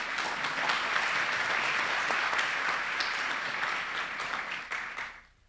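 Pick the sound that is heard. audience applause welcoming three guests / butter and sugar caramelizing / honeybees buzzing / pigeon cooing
audience applause welcoming three guests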